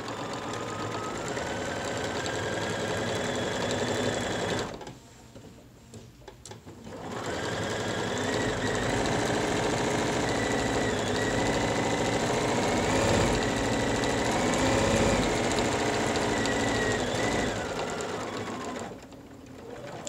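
A sewing machine stitches a gentle curve across the top edge of a cotton face mask: a close, steady motor whir with a short pause partway through before it resumes.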